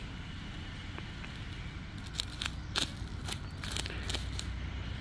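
Scissors snip dead leaves off watermelon plants outdoors. Several crisp, quiet cuts come in an uneven cluster over a soft steady background hiss.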